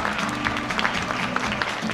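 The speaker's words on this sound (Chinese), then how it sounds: "热情掌声欢迎张琴琴姐，还有我们的罗巧伦" At the premiere of the film 《願望》, an audience claps warmly to welcome actresses Zhang Qinqin and Luo Qiaolun, a short burst of even applause with a faint hum of crowd voices beneath.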